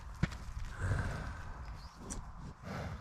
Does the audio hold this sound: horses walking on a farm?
yes